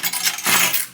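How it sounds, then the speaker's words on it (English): Keys jangle briefly and loudly close by, a bright metallic chatter of a keyring shaken for about a second with no voices. "Keys."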